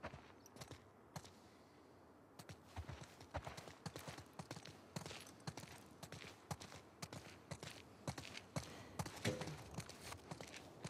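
Horse hooves clip-clopping in The Last of Us Part II video game, a steady walking rhythm of distinct hoof strikes on hard ground, close and moderately loud over quiet outdoor ambience.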